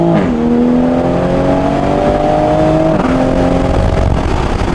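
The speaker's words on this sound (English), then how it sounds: "let's do a second gear pull" Toyota Supra in sport mode pulling hard through second gear, engine note climbing steadily and loudly, with a brief dip near the three-second mark before rising again, close and dominant with no talking.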